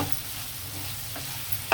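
Prawns fry in a pan with chilli, garlic and a little soy sauce, giving a steady, close sizzle with faint stirring scrapes and a brief clatter near the end; no talk.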